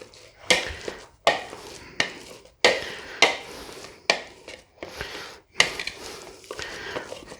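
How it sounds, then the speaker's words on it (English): Boiled eggs mashed in a bowl for tuna salad produce about ten dull, uneven thuds and scrapes close by, each stroke fading quickly, with pauses between and no speech. "you can just slice the eggs if you so choose. I like to mash them."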